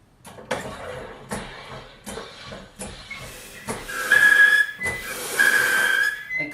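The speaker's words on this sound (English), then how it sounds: "I have a soda stream." SodaStream machine carbonating water at home: a series of loud, sharp hissing bursts of gas, with two longer whistling hisses near the end.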